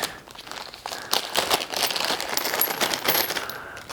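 Plastic bag holding BMW R1250GS final drive protection parts (bracket, bolt, washer, nut) rustles and crinkles as it is opened, with small hardware clinking, close and fairly loud for several seconds.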